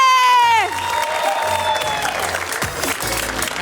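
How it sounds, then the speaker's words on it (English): A comedy club audience applauds and cheers as a comedian is welcomed to the stage, a sustained burst of clapping with whoops, following a falling musical sting at the start. "Let's get that applause going. Get it wooing"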